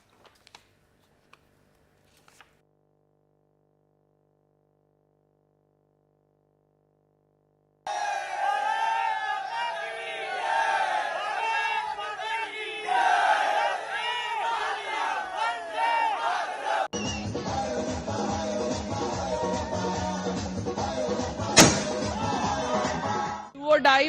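Street crowds celebrating India's Asia Cup final win over Pakistan, loud cheering and shouting that bursts in after a near-silent opening and grows into a roaring, chanting mass with bangs and whistles.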